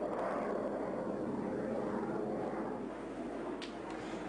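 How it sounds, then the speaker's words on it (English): Jet bombers roar low over Aleppo, a continuous broad rumble that fills the sky steadily without breaks, loud and sustained throughout with no voices. "it is to the roar of bomber jets."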